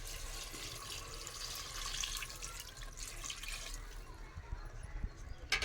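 Water is poured into a cooking pot with crab curry, a close trickling and splashing stream that rises and falls irregularly, ending with a brief louder splash.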